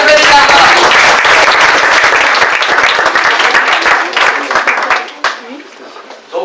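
A café-theatre audience applauds a singer-songwriter with loud, sustained clapping that gradually thins out and fades toward the end, with voices briefly audible over it.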